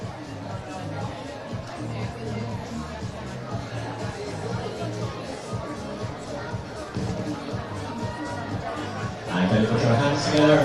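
Spectators at a national senior outdoor athletics championship cheer as a runner finishes the women's 5,000 metre walk. A steady murmur of crowd noise swells into louder cheering near the end, with a voice talking over it.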